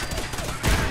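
A stockless gun fires a single heavy, booming shot in a video game, a loud burst with a deep low thud midway through, set against a busy game background.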